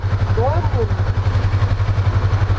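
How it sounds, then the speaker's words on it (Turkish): A motorcycle engine idles nearby with a steady low rhythmic throb, while someone talks over it. "Bu ne lan? Motor mu bu?"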